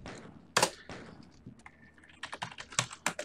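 Fingers type on a computer keyboard in quick, uneven bursts of close, crisp key clicks, with a few louder strikes and brief pauses between runs, and no talk.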